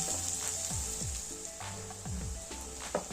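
Curry leaves, green chillies and peanuts sauté in hot oil in a pan, giving a steady low sizzle with repeated scraping stirs close by.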